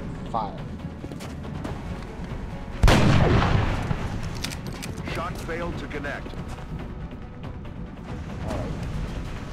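XCOM gunfire: one sharp, loud weapon blast cracks out, followed by a rumbling tail and scattered softer game effects, while a voice talks in the background.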